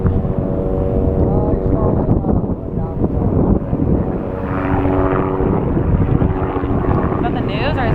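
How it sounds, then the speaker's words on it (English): A helicopter flies in fast over a Ford Bronco Sport rally drive, a loud rotor drone with steady tonal whine and wind buffeting that builds as it nears, with voices talking underneath. "helicopter coming in hot."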